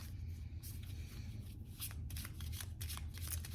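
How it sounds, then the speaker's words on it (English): Tarot cards are shuffled close up, a series of quick riffling bursts and soft slaps in an otherwise quiet room. "Okay, so we're gonna start by shuffling."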